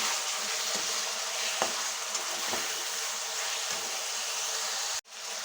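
Tomatoes frying with onions in a pan: a steady, dense sizzle throughout with faint stirring clicks, cut off abruptly just before the end.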